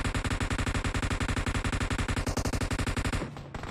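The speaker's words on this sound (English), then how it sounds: "Okay, a lot of gunshots" Rapid automatic gunfire rattles in a fast, even burst for about three seconds, then cuts off abruptly, leaving a brief low rumble.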